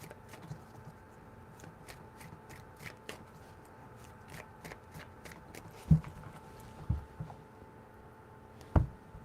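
Tarot cards being shuffled by hand: a run of soft, crisp riffling flicks at low volume, followed by a few sharper taps and thumps of the deck in an otherwise quiet room.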